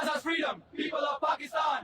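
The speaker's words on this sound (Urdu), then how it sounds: "ایران کے حق میں نعرے لگا رہے ہیں، پاکستان کے حق میں نعرے لگا رہے ہیں" A crowd chants slogans in favour of Iran and Pakistan, loud and close, in several rhythmic bursts of massed voices separated by brief pauses.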